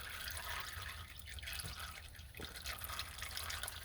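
Transmission fluid from a Ford Taurus pours in a steady stream into a drain pan, a continuous liquid splashing and trickling that stays even and close throughout, with no talking.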